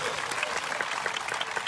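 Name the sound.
congregation applauding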